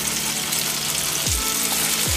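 Tandoori potatoes sizzle steadily in a pan over low gas, a continuous even frying hiss that stays close and moderately loud with no talking.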